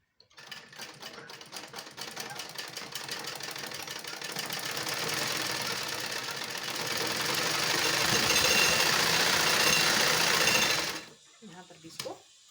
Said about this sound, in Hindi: यहाँ पर हमें सिलाई को थोड़ा पक्का कर लेना है।